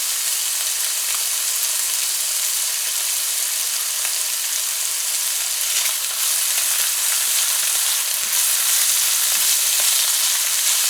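Shrimp and pumpkin frying in hot oil, a steady, dense close-up sizzle that stays loud and even throughout with faint stirring crackles and no talking.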